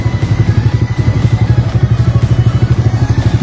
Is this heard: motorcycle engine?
yes